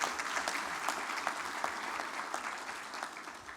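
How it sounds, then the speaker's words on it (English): An audience applauds at an aviation convention opening ceremony, a steady round of many hands clapping heard from some distance throughout. "Shall we give him another round of applause"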